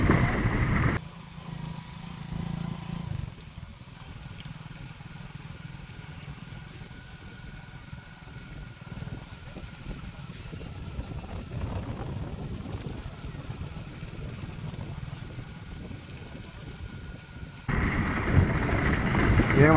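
Electric scooter ridden in third gear mode, a steady low motor and road drone with wind rush running continuously at moderate level, louder bursts at the start and end.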